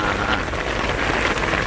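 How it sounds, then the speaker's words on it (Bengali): Heavy rain pours down in the Sundarbans mangrove forest, a dense, steady hiss of drops close by that fills the whole moment without a break, and no one speaks. "তুমুল বৃষ্টি শুরু হয়ে গেছে।"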